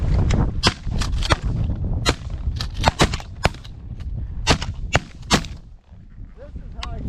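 Repeated shotgun blasts ring out during a waterfowl hunt for mallards, pintail and widgeon, about a dozen sharp, loud shots in quick irregular bursts over steady outdoor background noise, with brief voices between them.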